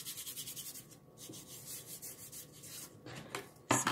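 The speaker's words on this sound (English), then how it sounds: "And then you just kind of rub it on there." A towel rubs stain onto a wooden chalk-stenciled spring sign in quiet, rhythmic strokes, faint and close, with a brief louder scrape at the end.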